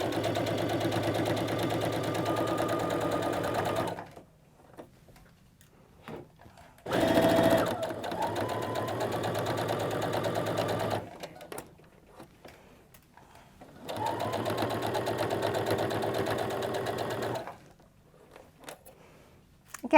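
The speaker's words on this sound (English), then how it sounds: "I am going to backstitch at the beginning and end of each of these straight seams." A sewing machine stitches straight seams on a fabric grocery tote in bursts of rapid whirring, with several seconds of near silence between runs and a brief mechanical clunk in one pause.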